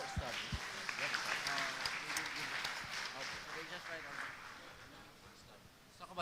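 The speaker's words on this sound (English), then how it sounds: "let's give them all a round of applause" A crowd of around 300 at a tech startup pitch event applauds the presenters with a broad, steady round of clapping. Voices run under it, and the clapping thins out toward the close.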